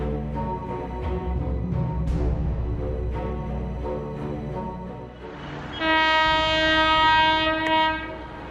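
A train rolls past with a heavy, loud rumble and rhythmic clatter of wheels, then a long blaring horn sounds near the end before the roar fades slightly.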